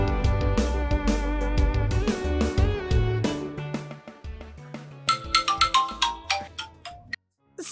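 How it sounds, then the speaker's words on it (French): A phone ringtone plays a bright melodic tune, loud and close, with chiming notes that grow more staccato toward the end. It then cuts off abruptly. "ton téléphone?"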